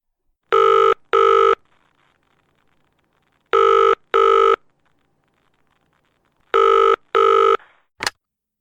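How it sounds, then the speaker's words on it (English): A telephone rings in three pairs of loud, clean electronic bursts separated by quiet gaps, followed by a short click at the end. "The phone rang."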